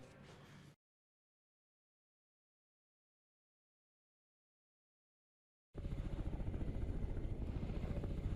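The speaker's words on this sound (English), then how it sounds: "unloading food containers brought in by helicopter from the academic Fyodorov" A helicopter brings food containers to an Antarctic station from the ship Akademik Fyodorov. After a short burst of sound and a long silence, its loud rotor chop and engine roar come in close and steady for the final seconds.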